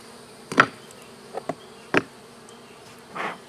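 Bees at hive number 82 beside a magnolia tree on a hot, partly cloudy day, a steady faint buzz with several louder close passes as individual bees fly near, no talking.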